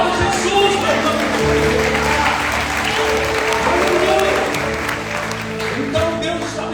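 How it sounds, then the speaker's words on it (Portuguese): A church congregation at a Monday evening worship service in Cuiabá applauds steadily for several seconds, a dense wash of many hands clapping together over sustained music. "Aplauda Jesus, meu irmão."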